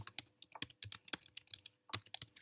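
Fast, light typing on a computer keyboard, a quick irregular run of close, crisp key clicks.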